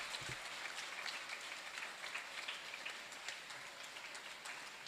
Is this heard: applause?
yes